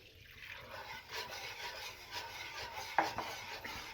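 A spoon scrapes and swirls through thick milk sauce for macaroni in a pan, soft rhythmic stirring strokes close by, with one sharper clink against the metal.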